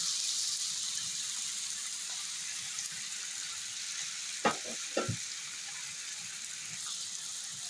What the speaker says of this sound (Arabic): من بعد ما سخنا الزيت الاخوان صافي كنديرو البطيطه